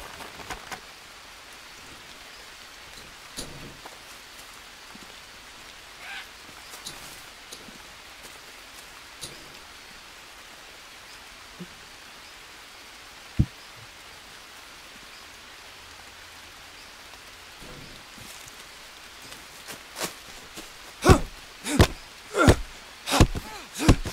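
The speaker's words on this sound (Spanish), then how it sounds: "y esperar que termine de llover." Rain falling in the Amazon jungle survival game Green Hell, a steady soft hiss of drops on the surroundings, joined near the end by a run of louder, sharp knocking or chopping hits.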